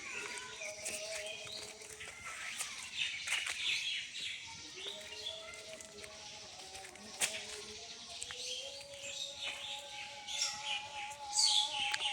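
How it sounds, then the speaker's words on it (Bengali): Many birds chirp and call over and around each other in a forest grove of wild dephal trees, a steady layered chorus of tweets and whistles with no talk. "অনেক পাখির ডাক শুনতে পারতেছেন"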